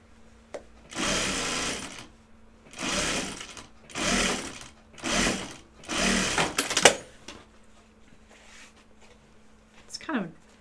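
A home sewing machine runs in several short bursts of stitching, each a couple of seconds long with brief pauses between, close and moderately loud, followed by a quiet stretch and a faint high sweep at the end.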